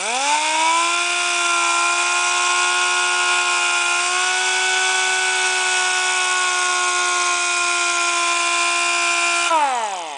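A high-pitched electric buffer motor whines steadily for several seconds while polishing stainless steel car trim, then spins down at the end, loud and close with no talking.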